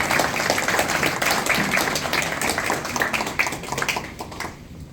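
Sustained applause from a crowd at a campaign launch event welcoming a guest, dense clapping throughout that fades toward the end.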